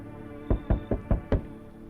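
Five dull, evenly spaced footfalls thud behind a closed door in a video game, close and distinct against a quiet background, with no talking.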